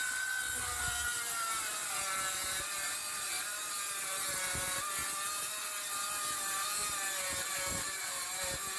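A circular saw rips through 18mm hardwood ply from a half sheet in the workshop, a continuous high whining cut holding steady for several seconds with a faint rough grinding underneath and no voices.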